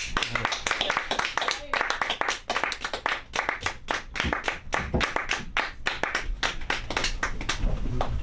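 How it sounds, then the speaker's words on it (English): A comedy club audience at a Friday stand-up night claps hard and steadily for about eight seconds, dense close hand claps forming continuous applause with voices mixed in. "Keep your hands clapping for Holly Star, everybody!"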